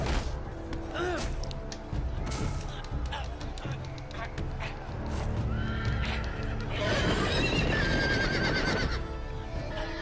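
A horse neighs loudly amid Game of Thrones video game sound effects, hoof clatter and thuds, with a person talking over the busy, continuous noise.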